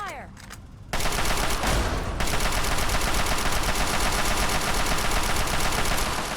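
Fallout 3 gunfire bursts in abruptly after a quiet start and continues as loud, dense, sustained shooting to the end.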